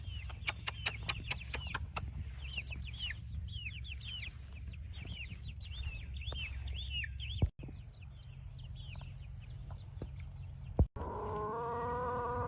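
Backyard egg-laying hens cluck and murmur in their coop, with repeated soft chirping calls over a low steady hum and a couple of sharp knocks partway through.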